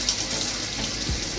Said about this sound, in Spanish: Abrimos el grifo.